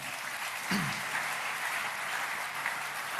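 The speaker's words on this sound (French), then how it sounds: "Est-ce qu'on peut acclamer le Seigneur?" A church congregation applauding the Lord during a pastor's sermon, with steady, dense clapping sustained throughout and little else audible.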